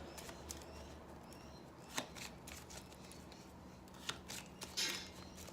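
Tarot cards are shuffled nearby in a quiet room, with soft riffling and occasional sharp snaps as they are handled, fairly faint overall.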